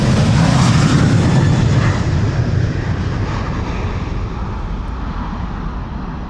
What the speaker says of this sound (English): Delta Airlines Flight 75 to Atlanta, Georgia, by the way, taking off here, November 823, November Whiskey is the registration, A330-300